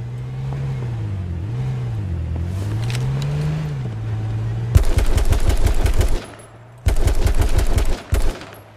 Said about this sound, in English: There's 3 of them with shotguns.